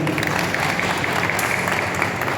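Audience clapping at a speech in a hall, a dense, steady wash of applause from many hands that holds at an even level throughout.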